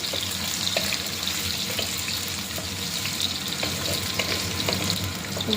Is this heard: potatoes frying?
yes